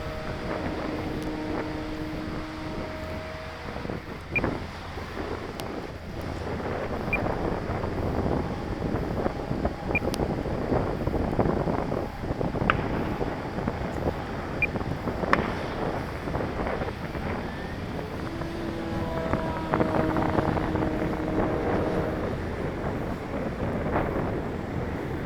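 An Eflite Carbon-Z Cub SS RC plane, a 2.1 m model, flies at full power, its steady motor drone heard at a distance through heavy wind buffeting on the microphone, with no talking.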